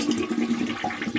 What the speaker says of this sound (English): now we flush it